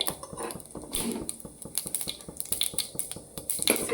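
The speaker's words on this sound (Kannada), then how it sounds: "ನೋಡಿ ಸಾಸಿವೆ ಜೀರಿಗೆ ಸಿಡಿತಾ ಇದೆ" Mustard and cumin seeds spluttering in a small amount of hot oil for tempering, a close run of sharp, irregular pops and crackles, with no voice.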